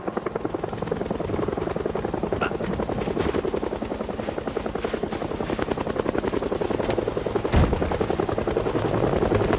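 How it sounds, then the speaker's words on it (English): A helicopter in the zombie survival game Project Zomboid thuds overhead with a steady, loud rotor chop that runs through the whole stretch. "it's this goddamn helicopter."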